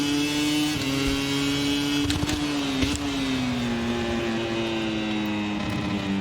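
A VR46 Ducati racing motorcycle in MotoGP 25 holds a loud, steady engine drone with a sustained high pitch that dips slightly and then holds, close up and with no talking.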